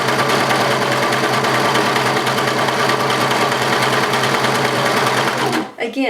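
A serger overlock machine stitches and trims fabric at its widest setting, a loud, steady, rapid mechanical whir close by that runs continuously and cuts off at the end. Speech can be heard over the machine.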